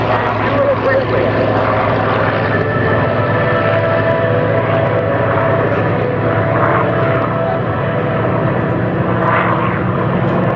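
A Corsair propeller warplane flying at the EAA AirVenture Oshkosh airshow, a loud continuous engine drone and propeller roar with rising swells as it passes, while a commentator talks over it.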